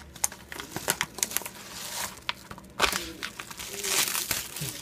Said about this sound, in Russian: Мелкий пакет, если быть более точным. Так, открываем его.